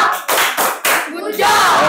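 A group claps in a few short bursts of rhythmic applause, with voices chanting along underneath, close and loud.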